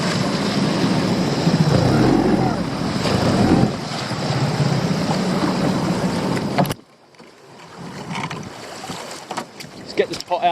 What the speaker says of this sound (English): Whoa, big waves.